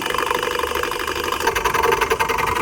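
A woodturning lathe spins an irregular ferro rod handle blank at low speed, giving a steady, loud mechanical whir with a wobbling, slightly uneven vibration from the unbalanced piece.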